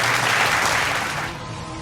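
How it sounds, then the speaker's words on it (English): Audience applause at a school annual day prize giving, a loud dense burst of clapping from a crowd that fades slightly toward the end. "A very big round of applause to Srinita."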